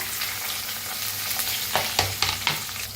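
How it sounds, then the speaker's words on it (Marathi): Curry leaves and onion dropped into hot oil with cumin in a pan, a continuous bright sizzle with a few spoon scrapes near the end; no voices. "त्याच्यात टाकूया कढीपत्ता टाकूया कांदा"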